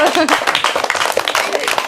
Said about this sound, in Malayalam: എല്ലാവരും ക്ലാപ്പ് ചെയ്തേ